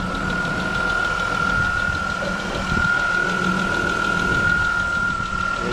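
A 2001 Chrysler 300M engine idling steadily up close, a constant low rumble with a sustained mechanical whine and faint lifter tick, no talk.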